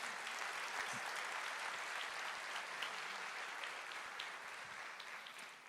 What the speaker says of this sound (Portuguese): Quantos podem dar um glória a Deus aí, uma salva de palmas para Jesus?